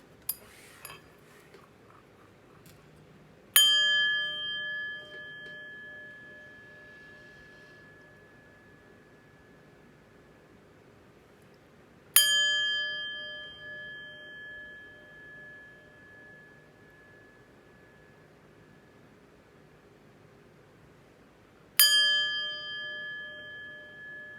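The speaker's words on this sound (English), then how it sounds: "But first, let's chime." Three struck chimes ring out one at a time, each a bright metallic strike with a long sustained tone fading away over several seconds before the next. A few faint clinks come before the first.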